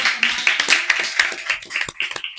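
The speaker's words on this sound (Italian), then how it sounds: "un applauso" Applause for Martina from an audience at a gathering on equestrian history in central Sardinia, a short burst of dense clapping at steady volume.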